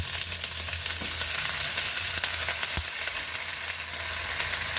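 Tripe sizzles and fries in a pan while kare-kare is cooked, a steady, close crackling hiss with occasional stirring clicks and no talk.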